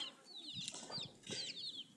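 Chickens on a poultry farm in Namibia, with soft clucks and a few higher calls close by at a moderate level, plus a faint rustle of movement and no talking.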